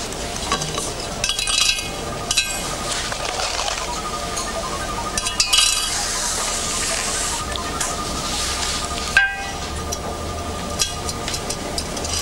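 Forty metal paper clips tip into a glass jar, giving a long run of close clinking and rattling with scattered louder chinks against steady background hiss.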